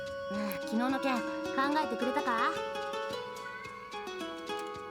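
In the G Senjou no Maou visual novel, a cat meows several times in quick, wavering cries, fairly close and clear, then fades into quieter background sound.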